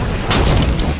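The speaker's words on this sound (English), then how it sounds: "Throwing grenades." A grenade blast in an Xbox One shooter game, a single broad boom that swells around the middle of a short burst and lingers under a steady low rumble, fairly loud.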